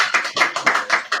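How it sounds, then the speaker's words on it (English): Hands clap together in a steady rhythm at a church dedication feast, about six sharp, close claps evenly spaced with no talking. "Give me a hand clap"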